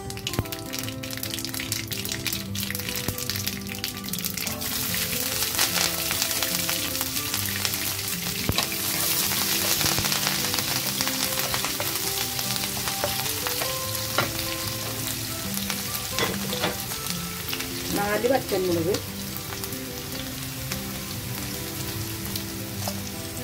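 Mustard seeds, green chilies and garlic fry in hot oil for a Kerala-style sweet ginger curry, giving a steady loud sizzle and crackle with occasional stirring and popping, no voices.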